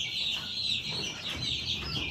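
Newly hatched chicks, born in April and May, peep continuously indoors in a warm room: a dense, high-pitched chorus of many small chirps, steady and close throughout.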